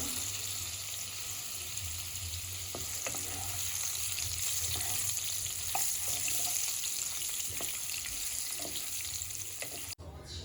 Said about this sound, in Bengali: গ্যাসের ফ্লেমটা লোতে করে আলুগুলো একটু ভেজে নেব